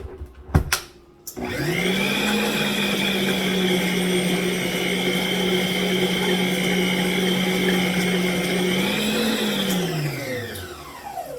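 An AceKool stand mixer with paddle mixing pizza dough ingredients runs as a steady, loud motor whir that holds an even pitch for about eight seconds after a few clunks, then winds down as it's switched off.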